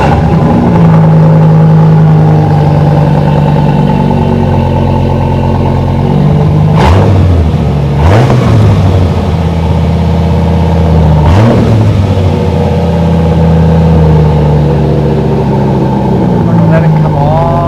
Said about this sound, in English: Let's hear this V10.